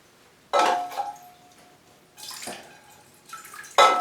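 Water pours in several bursts over a potted Paphiopedilum orchid with a dense root mass, each splash starting abruptly and trailing off, with quiet gaps in between and no talking.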